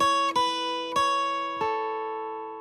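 A guitar rings out the opening of a song in four clear strums, each chord sustaining and fading slowly into the next, played alone with no talking.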